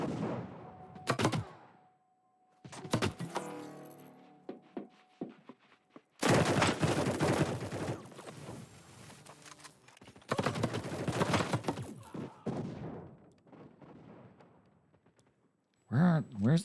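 Bursts of automatic gunfire in the video game Battle Prime come in rapid clusters separated by short pauses, with someone talking over parts of the action.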